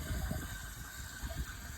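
Water gushes steadily from a hose at a motorhome dump point, a soft continuous rushing with low rumbling, heard alone and fairly faint.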